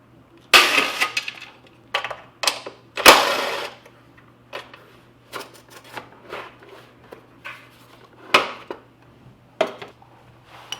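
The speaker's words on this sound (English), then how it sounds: "So you're going to take these 4 bolts off here." Bolts being removed from the skid plate of a 2020 KTM 790R, heard as close, sharp metallic clinks, rattles and tool clatter in irregular bursts against a low steady hum.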